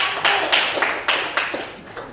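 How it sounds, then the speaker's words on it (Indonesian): A classroom audience gives a student group a short, loose round of applause: a handful of close, uneven claps and taps rising and fading in small bursts over about two seconds. "Beri aplaus untuk kelompok"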